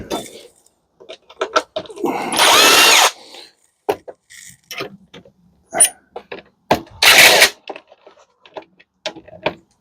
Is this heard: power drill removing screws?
yes